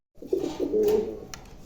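A white Lakka fantail pigeon gives a single close, soft, rolling coo that swells and fades over about a second and a half, alone.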